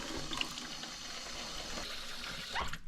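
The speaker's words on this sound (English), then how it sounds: "So I'm gonna add some water in it." Water pours steadily into a cooking pot for soup, a continuous close splashing rush with small clinks near the start and end.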